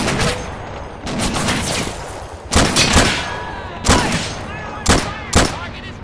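Cannons fire in a plastic army men battle game, heavy booming blasts in an irregular volley of about six shots, each a loud close thud with a rolling tail over constant battlefield din.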